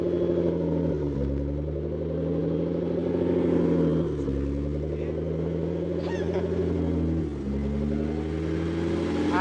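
BMW E30 fitted with an M52 engine revving, steady mid-pitched engine tone that rises and falls through several throttle blips, heard fairly close with some background noise.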